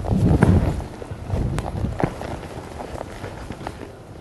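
A horse travels alongside a cow while cattle working, its hooves thudding in an irregular run of clip-clops, loudest at the start and then settling into quieter steps.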